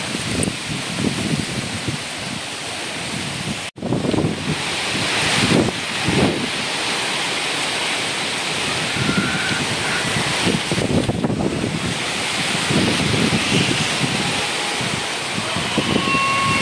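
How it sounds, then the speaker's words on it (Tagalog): Strong typhoon-like wind roars steadily across the whole stretch, with rushing, surf-like gusts and a constant hiss of heavy rain. "Ang matititing hagupit ng hangin, bagsak ng ulan."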